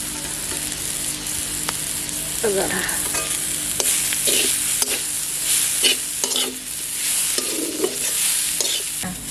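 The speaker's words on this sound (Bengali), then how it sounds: "এখন নারকেলটা দিলে নাড়াইয়ে নামিয়ে নেব" Grated coconut is stirred and fried in a pan: a steady low sizzle runs under repeated scraping strokes of a spoon against the pan, close and continuous, with no talking.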